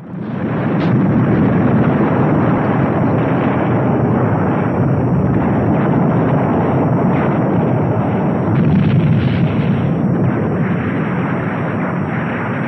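Dense, continuous explosions and rumbling blasts fill an animated battle scene where an enemy ship makes a suicide attack in the Space Cruiser Yamato movie, loud and unbroken for the whole stretch.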